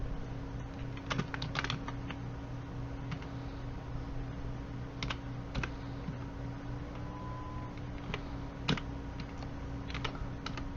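Keys clatter on a computer keyboard during spreadsheet data entry, with irregular clusters of close, crisp taps and occasional firmer strokes, alone over a steady low hum.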